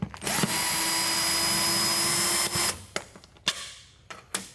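A power driver backs out Phillips screws on the third brake light of a 2004–2008 Ford F-150, a loud, close whir lasting a couple of seconds, then a few sharp clicks and knocks.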